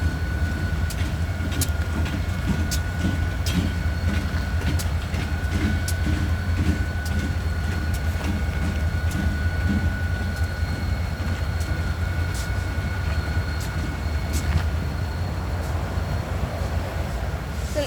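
An FEC SD40-2 diesel locomotive moves through Bowden Yard in Jacksonville, Florida. It gives off a steady low engine rumble with a sustained tone on top, heard close and alone.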